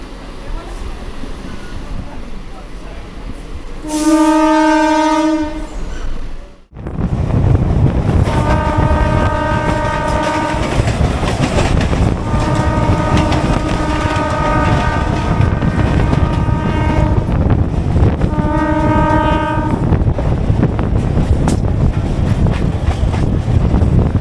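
A Howrah–Haldia fast local train sounds several long, loud horn blasts, one early and three more later, over the continuous rumble of the moving train.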